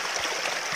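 Clear river water flows and rushes steadily at close range, a continuous broadband wash with no voices over it.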